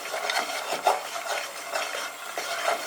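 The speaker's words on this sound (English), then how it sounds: "I will keep stirring for 1 more minute" Chickpeas for hummus, skins falling apart, being stirred in a pot, soft close scraping and rubbing strokes in an uneven rhythm with a few sharper clicks.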